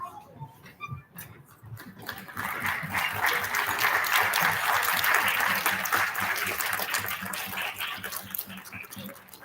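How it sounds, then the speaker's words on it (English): Audience applause at an elementary school student recognition ceremony, rising after a few faint knocks into a full round of clapping that swells and then gently tapers off. "would you please stand up so we can give you a big round of applause?"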